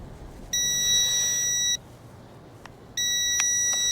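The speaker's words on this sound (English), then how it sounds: "it's beeping like crazy" A Ruko U11 Pro GPS camera drone hovering overhead emits a steady high-pitched electronic beep tone in two long bursts, with a short gap between, against a faint quiet background.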